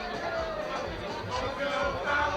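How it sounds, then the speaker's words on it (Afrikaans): Spectators at a school rugby match talk calmly among themselves, a steady, moderately loud murmur of overlapping voices with no single speaker standing out. "Kan jy hoor die skare wat lekker rustig saam praat."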